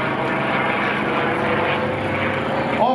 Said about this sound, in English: Showing us the incredible turning capability of the P-40 kitty hawk.